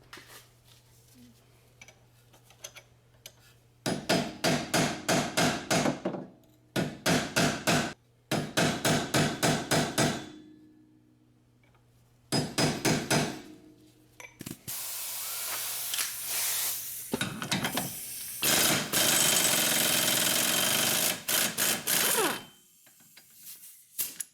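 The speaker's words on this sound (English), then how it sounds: "we're gonna have to pop this crush up so we can undo the axle nut" Repeated metal-on-metal hammer strikes at the crushed axle nut on a Honda CR-V during a rear wheel bearing replacement, coming in several quick, loud bursts with pauses between, followed by a long hissing spray-like noise.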